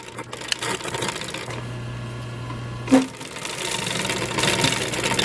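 A sewing machine back-stitches a headrest seam, its motor running in a steady mechanical whir with a short clunk midway before it stitches on.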